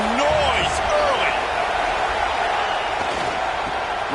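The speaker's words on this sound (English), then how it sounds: "This crowd bringing the energy and noise early." Stadium crowd roar in College Football 26, a dense steady wash of cheering and noise filling the whole stretch, with commentary voices over it.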